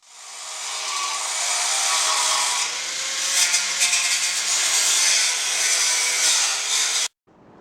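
Loud, continuous grinding as a power tool cuts through the rusty metal chassis of a Suzuki SJ410, steady for several seconds before stopping abruptly.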